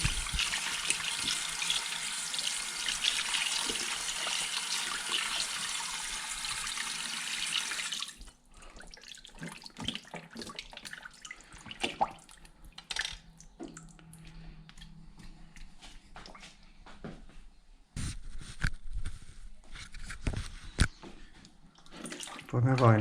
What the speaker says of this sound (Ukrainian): Філейки зараз промиваю.